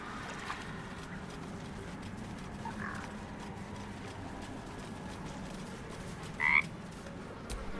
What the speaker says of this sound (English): Frog's entire body shakes. It ribbits erratically as if in pain.